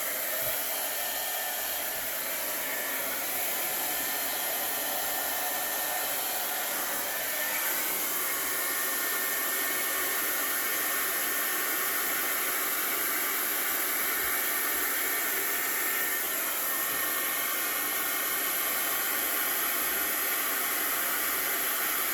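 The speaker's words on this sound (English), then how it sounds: "Let me switch blow dryers." Blow dryer running continuously at close range, drying acrylic paint on a bath bomb, a loud, steady airy roar and hiss that shifts slightly in tone as it moves.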